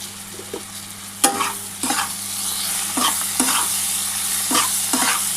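Tomato added to mutton frying in oil in a pan for a mutton curry, a continuous hissing sizzle punctuated by several sharp spoon scrapes and stirring strokes, no voices.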